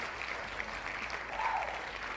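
Crowd cheering and applause from a wrestling match crowd in the Fire Pro Wrestling World video game, a steady broad wash of noise that swells slightly near the end, with no talk over it.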